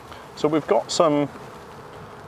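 Honey bees hum during an open hive inspection, a steady drone beneath a voice that speaks over most of the short stretch.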